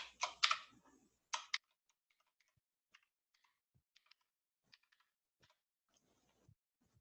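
A few quick bursts of computer keyboard typing while a password is entered, then sparse, faint isolated key clicks spread out over several seconds in a quiet room.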